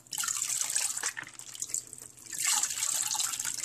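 Tap water runs into a sink while soaked morel mushrooms are rinsed. The splashing is close and steady and eases off once in the middle before picking up again.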